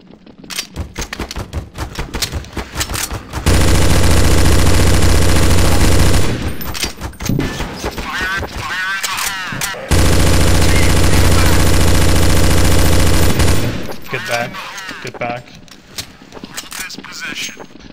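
Counter-Strike Source zombie escape gameplay with bursts of rapid automatic gunfire, two long sustained volleys separated by stretches of scattered shots and game noise.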